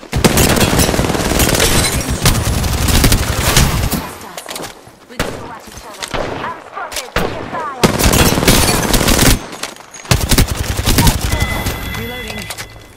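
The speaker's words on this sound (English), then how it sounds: "The enemies are shooting at me." Enemy gunfire in a video game firefight, loud rapid bursts of automatic shots in several volleys with short gaps between them, and voices talking among the shooting.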